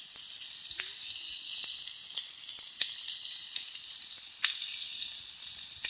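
Adana kebab and chicken skewers sizzle on a stone grill over a wood fire, giving a steady, close, bright hiss with a few faint pops and crackles. Nobody talks over it.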